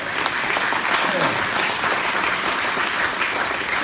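Audience applauding a remark about a high school graduation rate rising from 50% to 98%, steady dense clapping throughout at a close, even level with faint voices mixed in.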